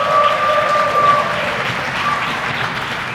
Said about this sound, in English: I will insist that the audience gives a huge round of applause